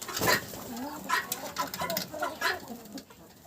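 Backyard hens, among them black ones, cluck and murmur close by in a home yard, with short sharp calls breaking out over a soft, continuous stream of low clucking.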